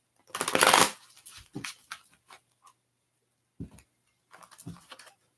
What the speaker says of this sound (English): I'm just shuffling the cards for Keith's question.